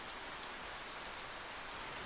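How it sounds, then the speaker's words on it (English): Loud steady rain pouring down, a dense continuous hiss of drops with no pauses and no voices. "It is very loud rain"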